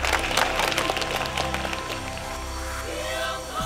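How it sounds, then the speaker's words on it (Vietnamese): An audience at a Vinh Long radio and television singing contest final applauds to welcome the contestants, with sustained dense clapping over music and a hum of crowd noise. "Chúng ta dành một tràng pháo tay thật lớn để chào đón lại 10 thí sinh trong đêm thi hôm nay."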